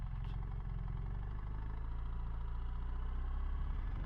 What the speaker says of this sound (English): When idling, it sounds so rattling.